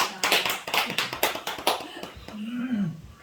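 Church congregation applauding during a Sunday service, a run of dense, fairly close clapping bursts lasting a couple of seconds before thinning out, with a brief voice at the end.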